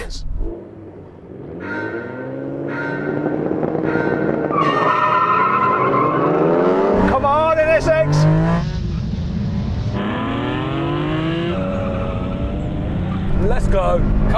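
Race cars, among them a Toyota Supra and a Nissan R34, roar close by with rising engine notes and tire squeals, the engine sound loud and continuous for the whole stretch.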